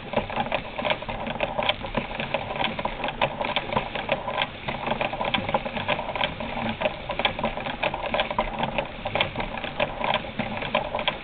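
A Singer 237 sewing machine stitches zigzag while turned by a hand crank, giving a steady fast mechanical whirring rattle with even clicking, close and continuous without speech.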